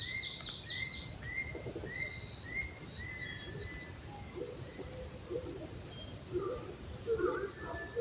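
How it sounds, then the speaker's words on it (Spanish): An attila calls repeatedly in a steady series of short notes over a constant high insect drone, in a quiet lowland jungle setting in Peru. "Otra vez el átila."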